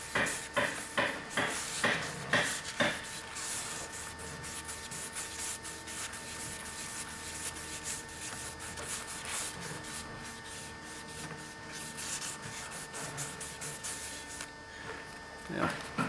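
A GL1500 Goldwing starter motor commutator being rubbed in a circular motion, with a few rhythmic scrubbing strokes at the start and then a soft, continuous rub while someone talks.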